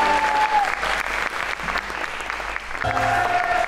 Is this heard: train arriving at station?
no